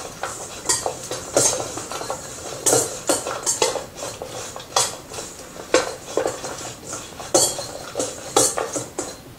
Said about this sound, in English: now we get to stir this all in